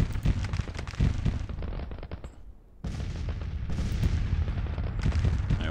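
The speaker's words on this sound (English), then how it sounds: "We got artillery opening up on us now." Rolling cannon fire and musket volleys from a Civil War battle in the strategy game Grand Tactician, a dense, continuous series of booms and crackles with one brief lull, loud and unbroken by speech.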